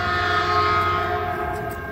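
A Caltrain F40PH diesel locomotive sounds its horn, a loud, steady multi-tone blast that holds close and strong through the whole moment over a rumbling engine.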